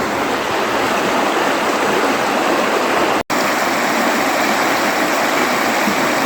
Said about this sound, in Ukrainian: А звук який шум водички.